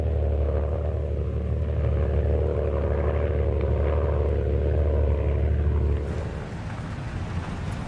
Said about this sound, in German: Ein Fiesler Storch im Einsatz.